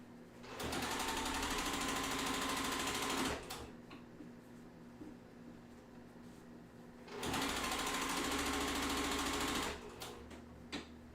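Sewing machine stitching a quilt seam between rows, two sustained bursts of steady mechanical whirring about three seconds each, separated by a quieter pause, close and alone.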